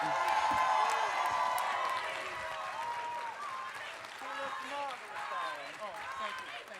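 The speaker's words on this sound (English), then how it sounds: "Don't clap for me." A crowd at a furry convention dance competition claps and cheers in a steady wash of applause with scattered whoops, while a host's voice talks over it.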